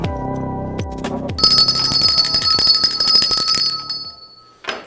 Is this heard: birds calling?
no